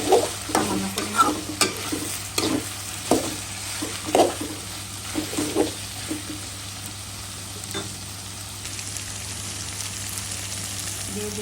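Ginger and garlic being stirred in a hot pan for a potato and mola fish bhuna, with a steady oil sizzle underneath and repeated scraping stir strokes over the first half before the frying settles to a constant hiss.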